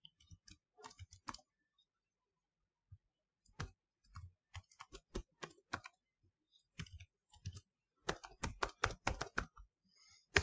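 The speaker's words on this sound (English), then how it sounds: "but we have to type" Bursts of clicky keystrokes on a computer keyboard, typed in quick irregular runs with short pauses between, close and fairly quiet, growing denser toward the end.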